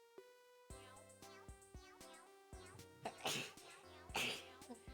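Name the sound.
sneeze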